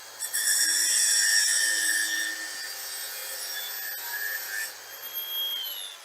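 Grinding on a part for an 84-inch Reddot four-passenger roof install on a 2018 E-Z-GO TXT golf cart, a steady high abrasive whine lasting several seconds with slight dips, close and loud.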